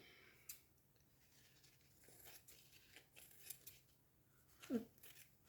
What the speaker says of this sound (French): Il faut que j'en coupe un morceau.